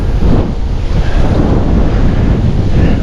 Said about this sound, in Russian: Просто ураган. Типичный ураган в наших краях.